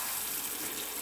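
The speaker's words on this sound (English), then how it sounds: "generally it's a good idea to rinse and shake until the water looks clear" Water runs steadily over lentils being rinsed in a sink, a continuous close splashing hiss with no talk.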